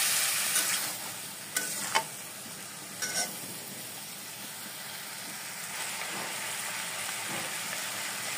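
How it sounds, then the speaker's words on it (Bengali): Spoon stirring ground cumin, ginger paste and mixed spices in a hot pan while cooking fish with cauliflower, a few scraping knocks early on over a steady, bright sizzling hiss that carries through. "এবার চামচ দিয়ে সব একসাথে ভালো মতো নাড়িয়ে নেব"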